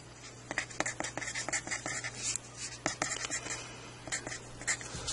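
A hand writes out a calculus function on a surface, producing close, quick scratchy strokes and taps in an irregular patter.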